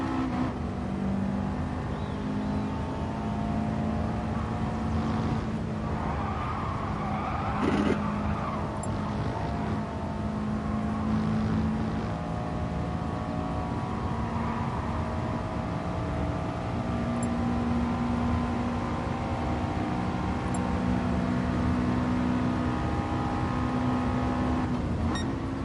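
A racing car at Spa in a video game, a steady engine drone that rises and falls with gear changes, with occasional tire squeal and skidding throughout.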